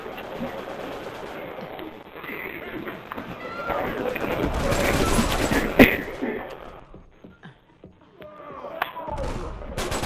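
Rapid gunfire from a Fortnite match, bursts of shots crackling amid busy game noise and overlapping voices, loudest in the middle before thinning out and returning near the end.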